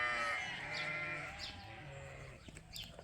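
Sheep on a farm give one long, wavering bleat, close and clear, followed by quieter scuffling and faint bleats.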